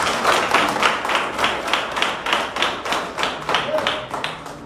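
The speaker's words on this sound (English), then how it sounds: "Clap for yourselves." An audience at a Hope Academic Centre African Liberation Day celebration claps in a steady, even rhythm, about three beats per second, moderately loud and continuous, with no talk on top.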